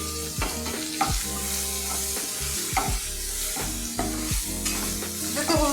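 Grated paneer sizzles in a hot pan while a spatula stirs it, with steady frying hiss broken by repeated scraping and knocking strokes at a loose, regular pace.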